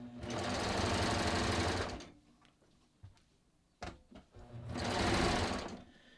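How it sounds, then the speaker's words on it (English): A serger overlocks two layers of fabric around a neckline facing, running in a steady loud whir for about two seconds, pausing amid soft handling clicks, then running again. "I'm just going to start serging"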